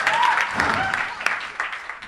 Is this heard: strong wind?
no